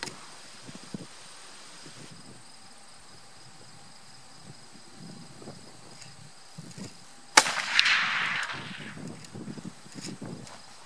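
A single sharp muzzleloader shot firing a Federal Trophy Copper bullet, loud and close, with a long rumbling echo trailing off outdoors after a quiet stretch of insect and cricket chirping.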